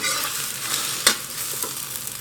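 An omelette fries in hot oil over high heat, a steady bright sizzle with occasional spatula stirs and one sharper crackle, and no voices.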